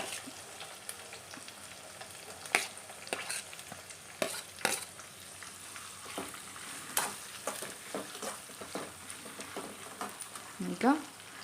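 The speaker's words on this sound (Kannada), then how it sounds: "ಈಗ ಈರುಳ್ಳಿ ಹೆಚ್ಚಿಟ್ಕೊಂಡಿರೋದು ಹಾಕೋತಾ ಇದ್ದೀನಿ" Chopped onions tipped into hot oil with already-fried green chillies for oggarane mandakki, giving a steady sizzle under repeated spoon-scraping and stirring clatter in the pan.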